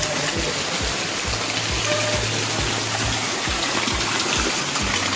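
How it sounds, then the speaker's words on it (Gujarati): Rain falls outside as a dense, even wash of patter with low rumbling underneath, steady and fairly loud throughout, no voices. "બહાર તો વરસાદ ચાલુ થઈ ગયો છે"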